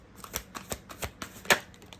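Tarot cards from The Good Tarot deck by Colette Baron-Reid being drawn and handled, soft quick flicks and taps in a loose rhythm, close and quiet with no voice.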